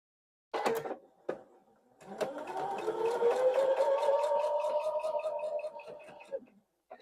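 A sewing machine stitches quilt pieces together for a Santa pixel quilt, starting with a few short clicks and bursts, then running in one steady mechanical whir for about four seconds before stopping.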